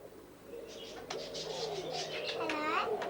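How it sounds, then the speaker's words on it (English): An Amazon parrot at a snake and bird park chatters in short, voice-like calls, ending in a rising whistle-like phrase. Someone talks close by. "It's a clever bird. It's talking. It's an Amazon."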